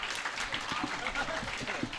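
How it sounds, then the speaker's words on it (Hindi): Audience applause in a Hindi spoken-word gathering: dense, steady clapping fills the whole stretch at moderate level, with a voice mixed in underneath. "आप एक बार मेरे सम्मान में तालियां बजाओ"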